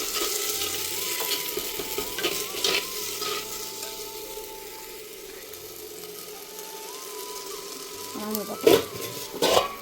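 Chicken gravy masala base of onion, tomato, ginger-garlic paste, turmeric and salt sautés in a pan on the stove, a steady frying sizzle with stirring scrapes and a few sharper clinks near the end.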